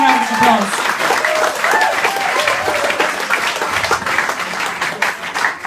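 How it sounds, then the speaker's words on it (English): A festival audience at the King of the Coilltes election in Kiltimagh, Mayo, gives a long, steady round of applause for the candidates, dense clapping lasting throughout with some crowd murmur mixed in. "they deserve a big round of applause"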